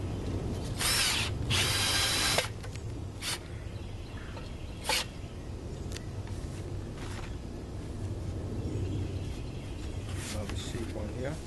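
A power drill drives a screw while assembling a trampoline safety net enclosure, with a loud whirring burst early on, a few sharp clicks and knocks, and steady background noise throughout.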